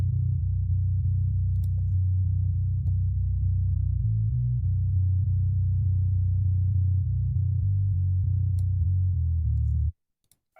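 Sub bass layer of a metal production's bass track, a deep, heavy, sustained low-end drone with shifting notes, loud and continuous for about ten seconds before cutting off abruptly.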